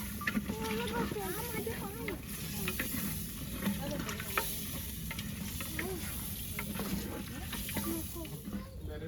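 Handi chicken with cashew nuts being stirred in a pot over a wood-fired clay stove, a steady close sizzle with scraping strokes running throughout while a person talks over it.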